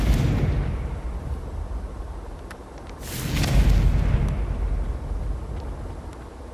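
A Confringo spell explosion in the Hogwarts Legacy video game bursts out as a loud, booming blast with a rumbling tail, set in continuous game ambience with a fainter earlier boom.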